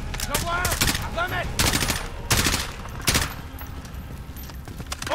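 Rapid bursts of automatic gunfire from a Call of Duty Modern Warfare firefight on PC, several loud volleys cracking out in quick succession, mixed with game voices and background clatter.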